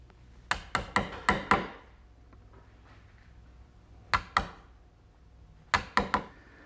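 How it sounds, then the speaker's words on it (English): A chisel cuts the corners of mortises in a wooden bed post, heard as sharp close taps struck in quick clusters of four or five, then two, then three, with quiet pauses between. "I chisel out the corners to square them up once again"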